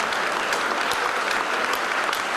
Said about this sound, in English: A big round of applause there for Kane, Sugar Cane Watts.